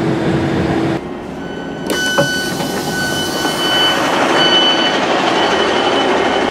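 A Northern train runs toward Leeds in West Yorkshire, a steady close rumble of wheels and carriage with faint tonal squeals and a brief dip in level partway through, no voices.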